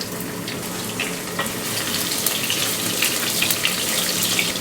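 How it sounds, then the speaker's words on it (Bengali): Chopped onions hitting about two tablespoons of hot soybean oil in a pot on the stove, giving a steady, loud, broadband sizzle that holds evenly with no pauses and no talk. "দুটো পেঁয়াজ কুচানো দিয়ে দিচ্ছি আমি।"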